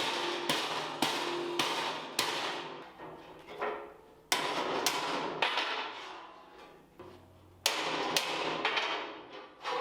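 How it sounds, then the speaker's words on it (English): A hammer strikes a metal garden trellis repeatedly at an uneven pace, each blow sharp and close with a short ringing decay, with irregular pauses between the strikes. "I grabbed a hammer, and that helped a lot, being able to control more where it was bending."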